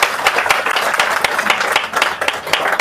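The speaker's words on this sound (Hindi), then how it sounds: "ताली बजा दीजिए।" An audience at an RCM business seminar in Faridabad claps together, a brisk, uneven patter of many hands at close range that keeps going throughout.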